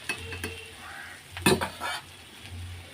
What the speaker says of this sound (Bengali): তেজপাতা জিরে ফোড়ন দিয়ে আলুটা ভাজা বসিয়ে দিয়েছি